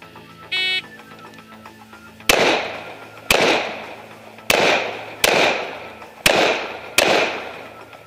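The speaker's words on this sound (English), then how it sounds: "you're going to draw and fire two shots at each head" Six pistol shots ring out during an IDPA classifier stage, in pairs at steady spacing, each a sharp loud crack with a ringing decay, following a brief electronic beep from the start timer.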